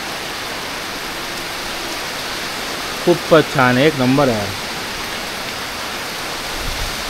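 Rain falls steadily in a village setting as an even hiss that runs the whole way through, while a voice speaks briefly in the middle over the downpour.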